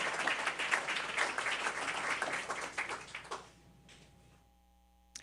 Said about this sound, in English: let's give Miss Renee Lewis Carter one more round of applause